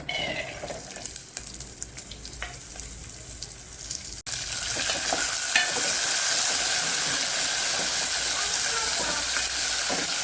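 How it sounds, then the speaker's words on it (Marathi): Fresh pigeon pea seeds roast in a little oil in a pan, a steady loud sizzle that swells after a brief pause, with scraping stirs throughout. "ते आपण आता थोडंसं तेल टाकून घेणार आहे। त्याच्यात आपण भाजून घेऊ आता दाणे।"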